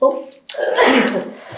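A single sharp sneeze bursts out close to the microphone, preceded by a brief breathy voice and a moment of near silence, with a noisy spray of sound trailing off over about a second.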